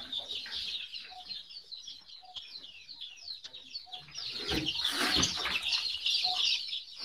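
Chicks and hens inside an organic fermented-litter chicken coop give a continuous chorus of high peeping close by, with occasional clucks and a brief burst of wing flapping midway.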